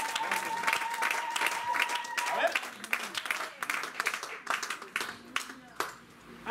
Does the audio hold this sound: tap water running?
no